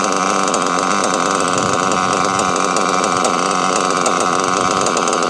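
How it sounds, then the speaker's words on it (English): A Novarosi Elite 5 nitro engine runs loud and close, a steady high-pitched buzzing whine that holds without a break. "let's get this thing warmed up, get it to idle"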